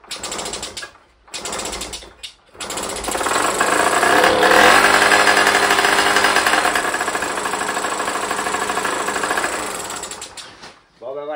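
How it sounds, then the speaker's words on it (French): A small petrol engine with a primed carburettor coughs through a couple of short cranking bursts, then catches and runs with a loud, fast, rattly buzz for several seconds before the revs drop off. "j'ai fait venir l'essence jusqu'au trou du gicleur et on va voir si ça démarre"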